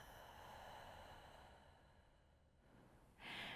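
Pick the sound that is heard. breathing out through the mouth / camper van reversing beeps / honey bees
breathing out through the mouth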